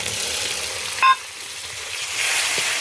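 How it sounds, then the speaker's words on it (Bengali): Spice paste for a jackfruit and meat curry, with tomato to be added, fries in oil in a pan. A broad, even hiss carries on throughout, with one brief sharp clink near the middle. "মশলা কষানো হয়ে গেছে, মশলা কষাচ্ছি এইখানে"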